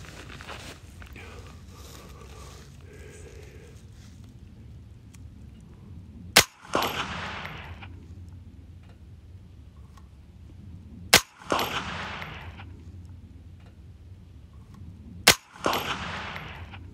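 A custom 6 ARC rifle loaded with Hornady match ammunition fires three sharp, loud shots spaced several seconds apart outdoors, each shot followed by a short, decaying echo, with no talking.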